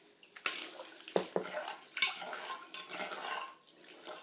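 Water is poured and sloshed while field crabs are washed in a container. Soft splashes and pours come in short bursts with light clinks, fairly faint and close.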